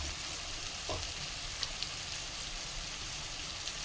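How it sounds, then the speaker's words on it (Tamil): Ground ginger, garlic and fennel paste frying in a pan for a dry red chilli chicken, a steady close sizzle with a few faint spatters and no voices. "இஞ்சி பூண்டு சோம்பு அரைச்சதை போட்டிருக்கோம்"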